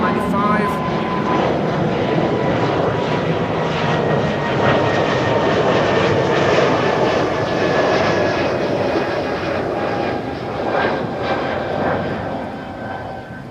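An Embraer E195-E2 jet at Amsterdam Schiphol gives a loud, steady engine roar with a faint whine on top. It holds close and strong for the whole stretch and eases slightly at the end.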